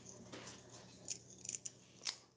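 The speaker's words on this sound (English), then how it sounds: "am I going to be able to do it with my scissors?" Scissors snip at the tip of a candy apple stick, giving several sharp, close cuts in quick succession, with a final louder snip near the end, against a quiet room.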